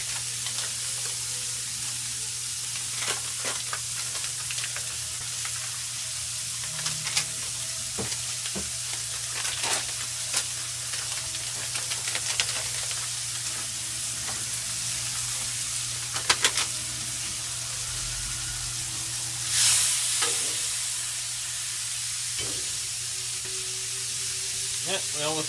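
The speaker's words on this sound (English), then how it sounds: "now let's add in some of our pepperoni" Pepperoni sizzling steadily on a hot Blackstone griddle while pizza pasta cooks down, a close, continuous crackling fry with a few scraping clicks and no talking.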